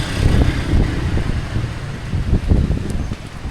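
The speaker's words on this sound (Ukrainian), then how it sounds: "Такий сильний поривистий вітер." Strong gusty wind in Vietnam buffets the microphone, rumbling and roaring in uneven surges with brief lulls between stronger blasts.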